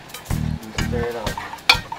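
Seasoning and breadcrumbs being stirred in a sizzling pan for a Belizean shrimp-stuffed lobster dish, with bursts of frying sizzle and scraping strokes, close and fairly loud.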